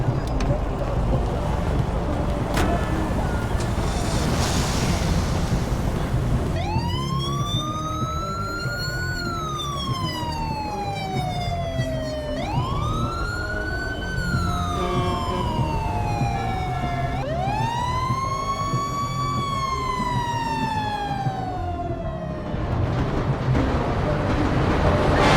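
Modded police and emergency vehicle sirens in the video game GTA 5, three rising-and-falling wails over a steady background of engine and traffic noise, loud and continuous.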